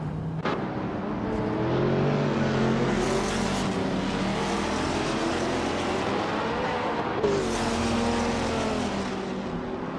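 Engines of racing cars in a video game race, led by a 2020 Koenigsegg Jesko hypercar, drone loudly and steadily, with rising pitch sweeps as cars accelerate and pass.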